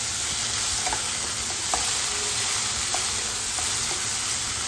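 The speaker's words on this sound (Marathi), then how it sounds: "ही फोडणी अगदी छान अशी तेल सुटेपर्यंत आपल्याला परतून घ्यायची" Spice tempering for a fasting-day varai amti sizzles in hot oil while being stirred, a steady close frying hiss with soft scrapes and small spits scattered through it and no talk.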